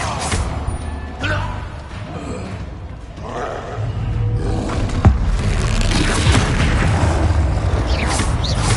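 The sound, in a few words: Descendo spell impact in video game Hogwarts Legacy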